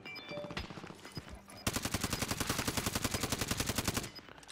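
Fast automatic gunfire rattles in rapid, evenly spaced bursts in Call of Duty Warzone, close and loud after a few scattered earlier shots.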